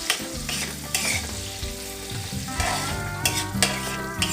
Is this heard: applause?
no